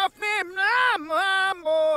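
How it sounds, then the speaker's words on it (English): A sung vocal on tape played backwards, giving short reversed syllables with swelling, sucked-in attacks and abrupt cutoffs, loud and close with no other sound. "if we were to take the tape and play it backwards, it would sound like this"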